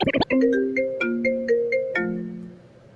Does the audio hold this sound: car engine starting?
no